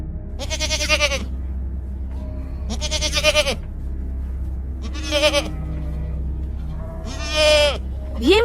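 Goats bleating in a village in an animated Hindi story, four separate loud, wavering bleats spaced a couple of seconds apart over a steady low hum.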